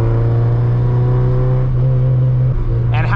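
A late-1980s Honda Civic EF hatchback's engine hums steadily and loudly while driving on a road, its tone holding then shifting as revs change near the end.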